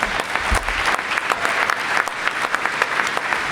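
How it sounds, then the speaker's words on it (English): An audience applauds loudly for a college band and spirit squads at a press conference introducing a new head coach, steady dense clapping filling the room with a few sharper claps standing out. "Give them a round of applause."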